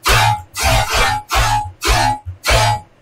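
Serum dubstep synth bass with spectral time processing for a lasery quality, five loud growling bursts in a choppy rhythm with short gaps, heavy low end and gritty upper buzz.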